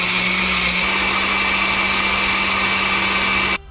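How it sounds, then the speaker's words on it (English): A countertop blender liquefies diced beets with water, running loud and steady at close range with a constant high whirring motor and no talking, then cutting off abruptly at the end. "Now we're gonna take these over to the blender."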